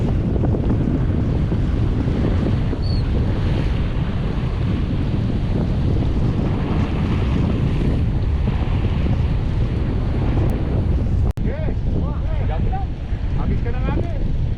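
Strong wind sweeps over choppy water around a fishing boat, buffeting the microphone in a constant, loud rush; near the end a few brief voices and a sharp knock cut in.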